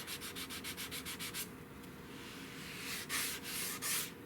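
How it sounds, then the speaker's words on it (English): Hand sanding with 220-grit sandpaper on a repaired wooden rifle stock from a Cooper M38: a fast run of rhythmic rasping strokes, then a pause and a few broader, louder scrubbing passes, close and alone. "I'm down to 220 sandpaper, and that break is getting pretty hard to see,"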